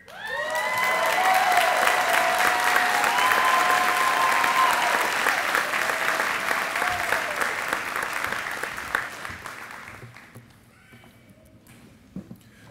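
Sustained audience applause with some cheering follows a class president's speech at a Houston Police Department cadet graduation, loud and steady for about ten seconds before fading to scattered claps.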